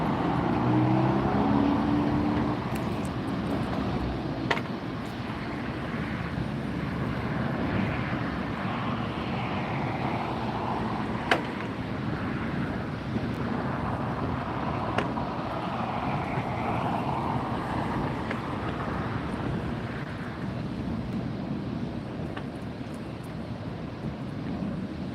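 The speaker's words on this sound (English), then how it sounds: "KLM going out on the other side, Dreamliner 787-10." A KLM Boeing 787-10 Dreamliner departs from LAX on a far runway, a distant, steady jet rumble under wind noise, with a few sharp clicks and no talk.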